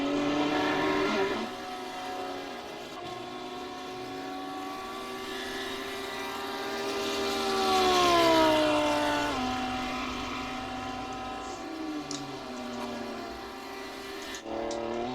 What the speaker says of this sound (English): These Lamborghinis sound nice when they're off throttle, when you change gear. Nice little crack from the engine.